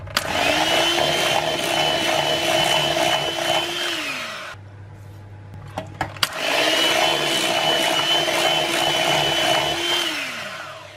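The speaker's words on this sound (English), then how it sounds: "So just whisk in 1 tablespoon at a time." An electric hand mixer whisks sugar into ricotta cake batter in two loud bursts of steady whirring motor drone, separated by a brief pause with a few clicks and knocks.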